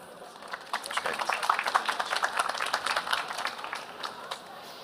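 An audience at a 10th-anniversary mapping show event in Istanbul applauds as a deputy culture and tourism director is welcomed to the podium. The clapping is dense and steady and swells to a sustained roar of many hands.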